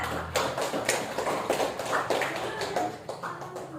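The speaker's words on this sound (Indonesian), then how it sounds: "tepuk tangan untuk kelompok 4" A small classroom of students gives a brief round of applause for a student group after a physics presentation, with quiet, scattered clapping near the microphone.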